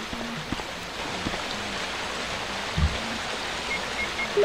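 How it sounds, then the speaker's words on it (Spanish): Steady, continuous rush of a waterfall inside a mansion in Resident Evil Director's Cut, an even wash of falling water with a few faint low game tones underneath and no voices. "Y escucho agua todavía. Hay una cascada."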